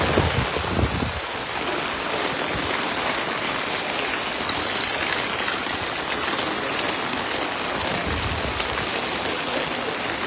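Rain falls heavily and steadily beside the swollen Kushiyara river at Sherpur in Sylhet, making a dense, continuous hiss close by, with a brief low rumble near the start.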